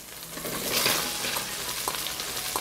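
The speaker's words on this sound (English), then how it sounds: "I fry leeks in the same fat" Leeks frying in leftover meat fat in a pan, a continuous close sizzle with a few light stirring scrapes.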